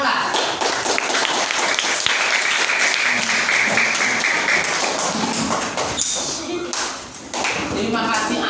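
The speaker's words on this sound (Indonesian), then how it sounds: "Tepuk tangan yang sudah unjuk keyakinan kelas." A sixth-grade class applauds in a school classroom, a steady dense clatter of small hands lasting several seconds, with some voices mixed in.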